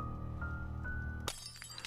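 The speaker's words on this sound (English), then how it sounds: "It's shattered." A low droning hum holds steady in a video game, then breaks off in a sudden bright shattering crash, like glass breaking, followed by scattered ringing fragments.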